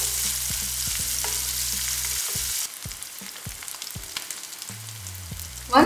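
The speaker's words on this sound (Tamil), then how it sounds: "சேர்த்துட்டு வெங்காயம் நல்லா வதங்குற வரைக்கும் வதக்கி விட்டுக்கோங்க" Small onions sautéing in a pan over a low flame, a dense sizzle that drops quieter midway, with scattered spatula taps and stirring scrapes and a sharp burst of crackle at the end.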